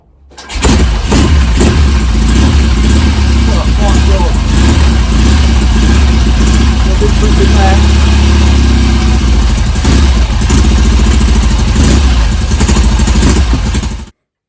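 A Norton Commando motorcycle engine with twin carburetors and full choke fires up almost at once and runs at a loud, steady idle for over ten seconds, close by, with no talk over it.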